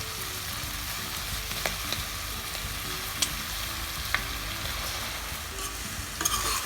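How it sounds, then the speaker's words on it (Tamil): Rice and green peas sautéing in hot oil for peas pulav, a steady close sizzle with occasional sharp clicks of a spoon stirring in the pan, with no talk. "அரிசி 2 நிமிஷம் நல்லா எண்ணெயில் வதக்கணும்."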